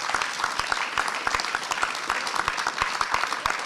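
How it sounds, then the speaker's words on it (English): Audience applause during a speech by Nancy Pelosi on a $15 minimum wage bill, a dense, even burst of clapping from a gathered crowd, fairly close and sustained. "And that is an applause line."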